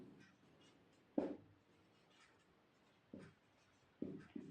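Quiet writing with a pen or pencil on paper, a few soft scratchy strokes in bursts separated by near silence.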